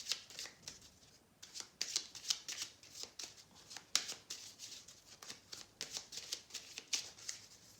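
Tarot cards being shuffled and cut, a rapid series of crisp riffling bursts and slaps close to the listener, repeating in quick irregular rhythm with no talk.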